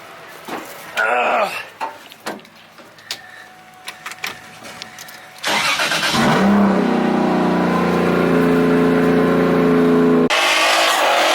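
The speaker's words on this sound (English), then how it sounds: "First startup of the day." A Nissan 350Z drift car cranks and fires up after some quiet clicks and knocks, then settles into a loud, rough idle close by for several seconds before it cuts off and another burst of noise follows.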